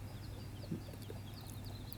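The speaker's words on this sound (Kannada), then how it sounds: "ಇಲ್ಲೊಂದು ಕೋಳಿ ಕವೆ ಕುರಿಸಿದ್ದೀವಿ" A hen brooding on eggs at a farmhouse gives a few faint, soft clucks over a quiet, steady low background hum.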